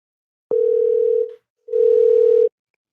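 A telephone ringback tone sounds on an outgoing call, two steady, loud buzzing rings separated by a short gap, with nothing else heard.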